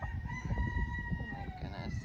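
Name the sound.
backyard chickens, rooster and hens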